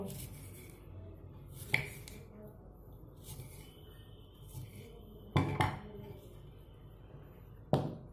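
A knife cuts fruit, including grapes halved, into small pieces for fruit custard. A few sharp knocks against a board stand out from quiet gaps.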